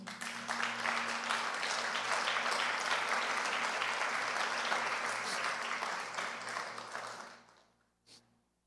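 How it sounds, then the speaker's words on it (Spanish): A congregation at a Spanish-language praise and prayer service claps loudly and steadily for several seconds, a dense, continuous wash of applause over a low hum that tapers off and fades to near silence. "¿Pueden darle un aplauso al Señor?"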